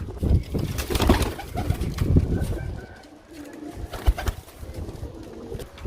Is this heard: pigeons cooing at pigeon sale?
yes